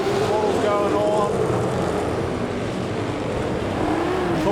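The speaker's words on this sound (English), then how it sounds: "The slides on, the cars are just working hard now into the corners" Stock cars race and slide through a corner on a Gisborne track at night, a steady loud roar of several engines with rising and falling revving tones, and a commentator talking over it.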